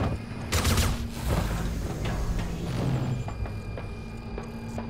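Repeated video game weapon shots, several sharp bursts over a steady low background hum, fairly close and loud, spaced irregularly across a few seconds.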